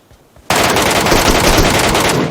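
Automatic gunfire in a battle royale video game, a loud, sudden burst of rapid shots that starts abruptly and keeps rattling without a break, no voices.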